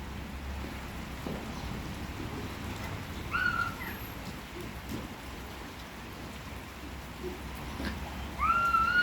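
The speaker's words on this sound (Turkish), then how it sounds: "Evet zaten yağmur yağar." Outdoor rain, a steady soft patter that runs throughout, with faint bird chirps now and then and no talking.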